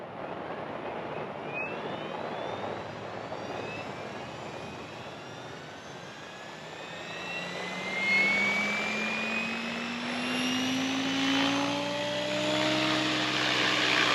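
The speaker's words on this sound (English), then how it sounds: "I'm going to go back to bank 1 and spool it up" The rotor of an XL Power Specter 700 V2 RC helicopter spools up outdoors, its whine rising and sweeping steadily upward in pitch over a broad, airy background hiss.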